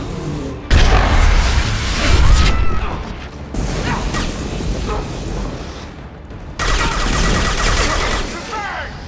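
A firefight in Mass Effect 2 with loud, dense gunfire and impacts. Bursts of shooting and crashing start abruptly, break off and resume, and voices are heard briefly among the shots.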